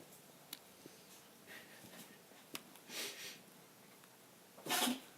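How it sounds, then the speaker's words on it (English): A dog sneezes indoors, two short, faint bursts a couple of seconds apart against a quiet background with a few small clicks and sniffs. "I was watching my dog sneeze."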